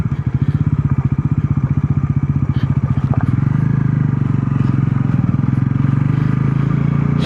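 A Bajaj Pulsar NS 400Z motorcycle rides over a rough mountain road with low ground clearance, its engine thumping steadily and loud up close, the pulsing smoothing into a continuous drone partway through.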